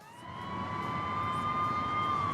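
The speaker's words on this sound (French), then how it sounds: "ces plans, ils s'accompagnent aussi d'une sirène de police" Police siren in the soundtrack of the film Maniac, a steady high wail that swells slightly in loudness over a low background wash, fairly faint and heard alone.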